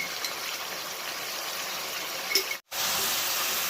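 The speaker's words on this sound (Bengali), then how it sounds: "ভালো করে নাড়াচাড়া করে দিচ্ছি" Chicken sizzles in a pan with chili powder, salt and sugar as it is stirred, a steady close hiss with faint scraping that cuts out briefly near the end before resuming.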